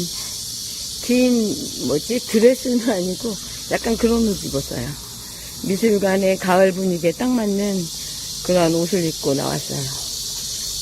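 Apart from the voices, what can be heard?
cicadas chirping outdoors in late summer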